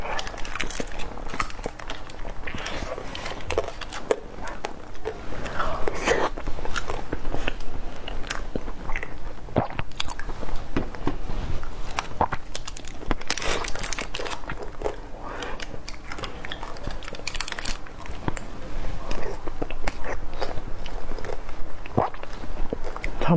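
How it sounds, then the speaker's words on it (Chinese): Crunchy candied strawberry tanghulu being bitten and chewed close up, a long run of sharp crackling bites and brittle crunches repeating in quick irregular bursts, loud and near, with no talking. "我吃这个嘎嘣脆的糖"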